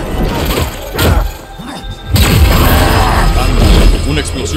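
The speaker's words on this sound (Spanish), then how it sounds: "una explosión sónica dio justo en la carota" A heavy thudding sonic explosion impact booms out in Spider-Man 2, followed by a sustained rumbling roar with crashing debris, loud and close.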